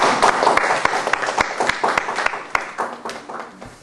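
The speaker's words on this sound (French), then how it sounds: "nous applaudissons pour les trois" A small seminar audience claps steadily, a dense patter of hands that thins toward the end, with a faint voice underneath.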